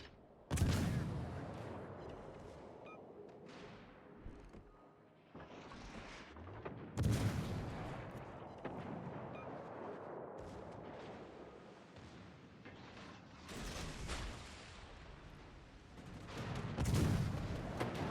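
Warship guns fire armor-piercing shells in World of Warships Legends, heavy booming salvos landing every few seconds over a continuous rumbling battle backdrop.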